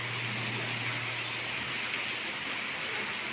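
Steady rain falls during sunshine, giving an even, close hiss of drops with no pauses and no voices throughout.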